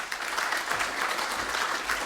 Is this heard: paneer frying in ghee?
no